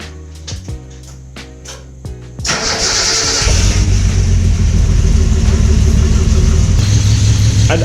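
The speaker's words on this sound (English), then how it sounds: "I gotta start it and let it run in my garage" A car engine in a garage cranks over several times with sharp starter clicks, catches and settles into a loud, rough, steady run that fills the enclosed space.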